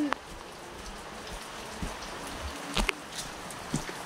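Steady patter of rain falling close by, with a few sharper drops and faint splashes standing out from the continuous hiss.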